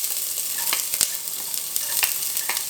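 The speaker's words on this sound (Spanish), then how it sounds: "en ese aceite vamos a empezar a sofreír la cebolla" Onion frying in a tablespoon of oil for homemade corn soup, a bright continuous sizzle punctuated by crisp pops and scraping stirs at irregular intervals, close and clear.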